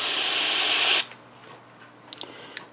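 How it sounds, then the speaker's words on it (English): Cleaner spray forced through a straw into a connector on a 1991 Mac Classic, one loud hissing burst for about a second, then faint clicks and small handling noises. "I'm going to stick the straw right into that one connector and spray"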